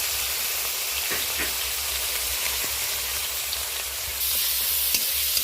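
Slit green chilies and grated tomato sizzling in hot oil in a pan, a loud, steady hiss of frying with occasional small pops and a slight jump in intensity near the end.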